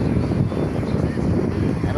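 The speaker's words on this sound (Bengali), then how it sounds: "আর অনেক সুন্দর বাতাস" Wind gusting at a large pond in a Malaysian park, a loud steady rush buffeting the microphone throughout, with no other clear sounds.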